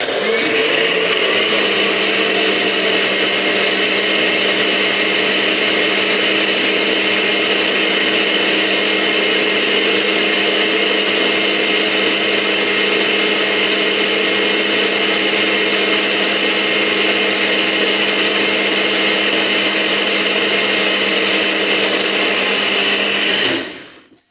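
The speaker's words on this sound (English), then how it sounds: "And I'll just blend it till it looks like, from what I can see, that they've blended pretty well." Nutribullet and Ninja blenders running together on a mix of ingredients, a loud, steady high-pitched motor whine that spins up quickly, holds unchanged for over twenty seconds, then cuts off abruptly at the end.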